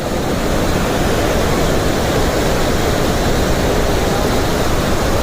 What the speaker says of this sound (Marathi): पाण्याच्या लाटा पाण्याचे असे थेंबे छोटे छोटे वर पण यायले आहेत खूप जास्त पाणी आहे